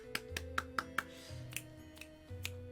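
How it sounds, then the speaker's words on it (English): Finger snaps ring out in a quick series, about eight sharp clicks spaced unevenly over a quiet background with a low hum, no talk. "Snaps and claps."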